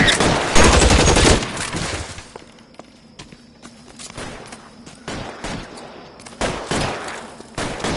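Gunfire in the LA Noire video game: loud bursts of rapid shots at the start, dropping to scattered single cracks and then rising into another flurry near the end, with no voices.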